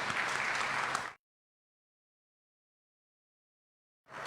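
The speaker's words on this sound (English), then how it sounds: "we ought to give them a resounding round of applause" Applause from an audience honouring women at a Women Empowerment event of Guyana's Ministry of Human Services and Social Security, a dense burst of clapping that stops abruptly, leaving a long silence before clapping resumes at the end.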